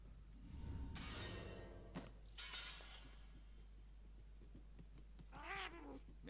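A cat meows in the video game Murdered: Soul Suspect, a short rising and falling cry near the end that follows earlier crashing, shattering bursts, all set against a low steady hum.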